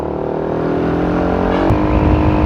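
Motorcycle engine humming loud and close during a night ride toward Tagaytay, a steady droning roll with rising rumble near the end, no talking.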